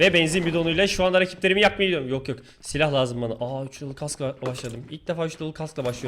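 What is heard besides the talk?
No distinct noise like a dog, phone or traffic.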